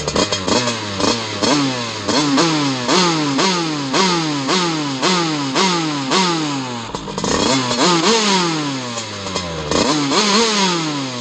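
A moped engine fitted with an 88 Big Racing cylinder kit revs hard and close, climbing and dropping in quick repeated bursts with a raspy two-stroke whine and no talking.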